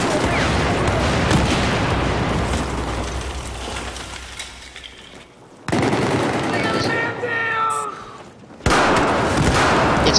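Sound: grenade explosion and gunfire in the video game Battlefield 4

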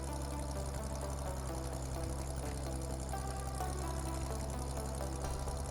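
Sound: tractor engine in video game Farming Simulator 15

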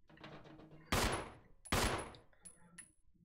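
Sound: gunfire from a video game, Resident Evil

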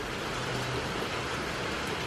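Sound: rain falling outside

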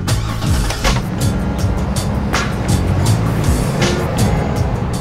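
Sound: car with hand controls driving off

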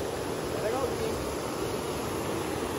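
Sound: waterfall at Cachoeira da Usina, Chapada dos Veadeiros

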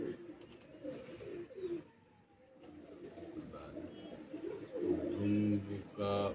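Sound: pigeons

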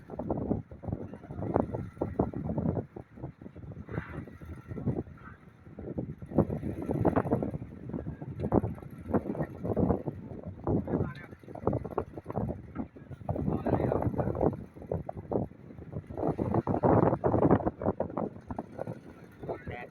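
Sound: wind and big waves at sea

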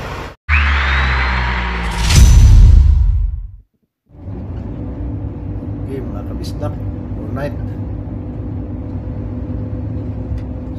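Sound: truck engine while driving in convoy

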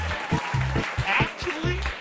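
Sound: applause in a video game

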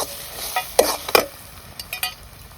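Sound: frying batter with salt and flour in a pan

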